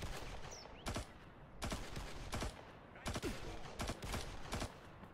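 Automatic gunfire in the shooter game IGI 2 Covert Strike, fairly quiet, in several short bursts of rapid shots spread across the clip with brief gaps between them.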